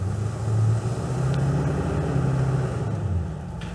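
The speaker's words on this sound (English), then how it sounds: "The exhaust is nice." A 1975 Chevrolet Corvette's exhaust drones low and steady while driving, swelling briefly before settling into an even, moderately loud rumble under road noise.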